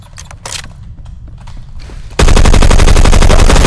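Rapid automatic fire from an FAL Para rifle in the shooter game Phantom Forces, starting after scattered shots and clicks as a loud, dense, continuous burst of evenly spaced cracks up close.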